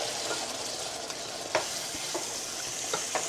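Beef broth being added a little at a time to noodles as they are stirred in a hot pan, a close steady sizzle and bubbling with a few soft scraping taps, no voices.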